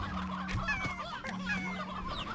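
Hens in the video game Slime Rancher give a short run of soft clucks over a steady synthetic background hum.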